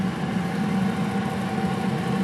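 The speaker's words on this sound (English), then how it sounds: "So it's digging a hole, and barely you can see the auger down in there." A repaired auger engine running steadily while digging a hole in wood-chip-covered ground, a continuous low droning hum with no change in pitch, close and unbroken.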